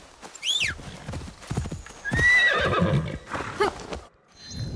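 In the video game Assassin's Creed Shadows, a horse whinnies in several high, wavering calls mixed with hoof clops, close and prominent with brief pauses between.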